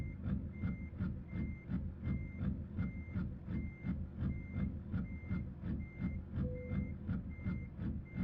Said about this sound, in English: Just gonna back in here and grab the trailer.